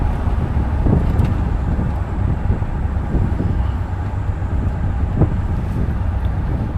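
A 1975 Pontiac GrandVille with a 350 V8 cruising at about 35 mph gives a steady low rumble of engine and road noise with wind buffeting, unbroken and fairly loud throughout.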